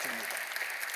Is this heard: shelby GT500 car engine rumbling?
no